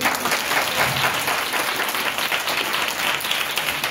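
An audience claps together at a religious gathering, dense steady applause filling the room for a few seconds without speech.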